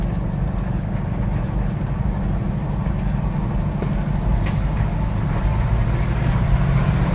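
Air-cooled engine of a 1970 VW Type II bus idling steadily in a parking lot, a dense low rumble holding constant and close throughout with no talk.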